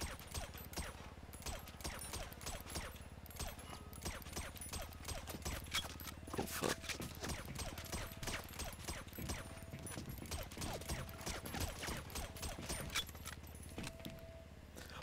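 Video game gunfire in a crane combat game rattles in quick bursts of close, sharp shots at a low overall level, steady throughout under an ongoing background hum.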